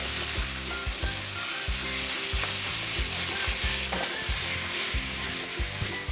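Boneless chicken breast sizzles steadily in a hot pan, a dense close frying hiss with frequent stirring knocks and scrapes, no voices.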